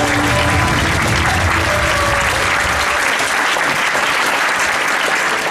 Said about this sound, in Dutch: Geef ze maar alleen een applaus